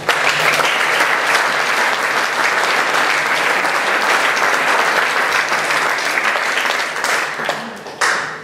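A crowd applauds a band at a Romansh choir concert, dense sustained clapping filling the room loudly for several seconds before tapering off near the end.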